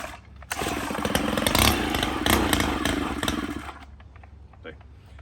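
Stihl FS91R string trimmer with a carburetor problem, running loud and rough at high choke idle for a few seconds, then dropping off and stalling into near quiet with a few faint clicks; a voice is heard briefly.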